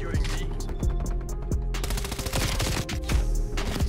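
Rapid gunfire from an MP5 submachine gun in the video game Black Ops Cold War, dense bursts of close, loud shots with sharp repeated cracks over about four seconds, alone without talk.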